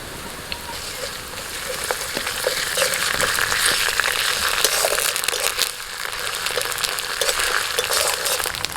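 Onion frying in a pan with garlic and ginger paste added, a steady dense sizzle running throughout with scattered crackles and occasional stirring scrapes, close and continuous with no talk.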